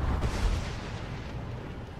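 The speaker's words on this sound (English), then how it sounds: "Smoke bomb!" A smoke bomb going off in Minecraft: Story Mode, a short, loud, muffled burst that fades quickly into a low rumbling hiss.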